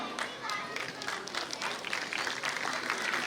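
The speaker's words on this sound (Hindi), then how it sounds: "तालियों से स्वागत करें श्री पंकज कुमार" An audience in a hall claps in welcome for an honoree at a ceremony, a busy patter of applause with crowd murmur and some voices mixed in.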